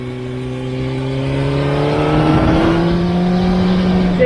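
A car engine's tone drops and climbs as the driver downshifts from sixth gear toward third, a steady, close engine drone with a shift in pitch midway and no talk.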